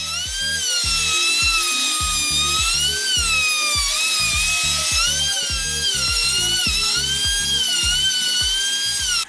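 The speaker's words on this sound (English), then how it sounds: "I use a wide flattening bit in my router and put it in the router sled at the right depth." A router fitted with a wide flattening bit runs in a router sled, surfacing an epoxy river table about 1/8 inch per pass. It gives a loud, steady, wavering high whine with a rhythmic low thumping beneath it throughout.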